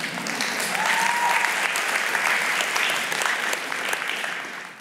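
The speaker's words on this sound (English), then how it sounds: "You can clap to that." Audience applause in a church congregation, steady clapping that fills the space for nearly five seconds before tapering off at the end, with a faint voice briefly audible underneath.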